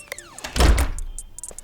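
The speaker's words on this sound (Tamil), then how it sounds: "கதவை சாத்திக்கோ." A door is pulled shut with a single dull thunk in a home, preceded by a short creak and light clicks, with quiet room noise around it.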